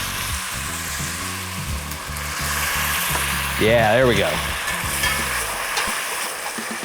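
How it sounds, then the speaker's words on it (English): Loud, steady sizzling fills the clip as pasta water hits a hot pan while making carbonara, close up, with a person speaking briefly over the hiss. "This is gonna sizzle like crazy."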